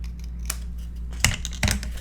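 Scissors snip through a paper piece for a Stamperia Christmas mini album, a few crisp close cuts trimming an uneven edge over a steady low hum.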